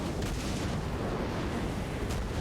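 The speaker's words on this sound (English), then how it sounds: "Our artillery opening up on the Kislev army." Artillery opens up in the Total War: Warhammer 3 battle, a steady dense rumble of distant booming shots blending into continuous battle noise, with no talk.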